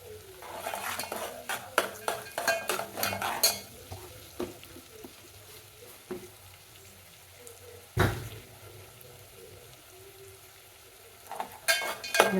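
Mango rice (chitranna) seasoning is stirred and fried in a pan, with a metal spoon scraping and clinking against the pan in quick bursts over a faint background sizzle, then sparse taps and a few final clanks.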